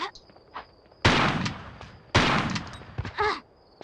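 Gunfire in the video game Tomb Raider: The Last Revelation, in the Citadel area: two loud, sharp bursts a second apart over quiet game ambience with small scattered effects.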